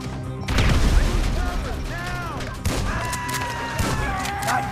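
A frag grenade blast in GTA V booms out, then dense gunfire and crashing debris follow in a loud, chaotic firefight with ringing metallic tones and voices shouting over the action.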